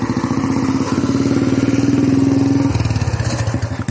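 A motorcycle engine idles in the parking area of a temple in Guwahati, Assam, a loud, close, steady rapid putter with even pulsing throughout.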